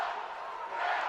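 Hockey crowd at a Kelly Cup playoff game between the Jacksonville Icemen and Florida Everblades, a sustained roar of voices jeering and calling out, swelling slightly toward the end.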